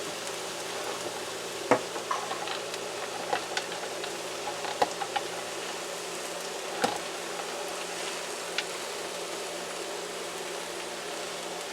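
Miki noodles being stirred in a frying pan for pancit miki guisado, a steady soft sizzle with occasional scraping taps of the utensil, close and moderately quiet, with no talking.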